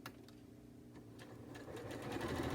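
A sewing machine stitches a rice-filled booboo bag, its rapid needle chatter steady and close, speeding up slightly toward the end.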